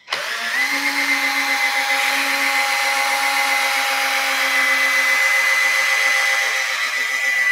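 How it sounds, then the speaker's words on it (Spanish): A steady, high-pitched electric drill whine runs continuously for several seconds, close and loud, with no talking over it, during car interior detailing. "Vamos a utilizar el taladro."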